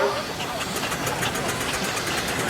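A miniature steam traction engine running past at a steam fair in Brixham, a steady mechanical chuff and hiss in a busy outdoor crowd wash, moderately loud and continuous throughout.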